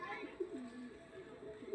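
Domestic pigeons in a home coop cooing, soft low throaty coos repeating in a gentle wavering rhythm, close but fairly quiet against a faint background hum.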